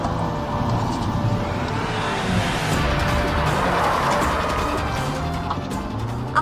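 A car being driven very fast, its engine straining loudly and steadily close by, with a faint tire squeal and a brief thump at the end.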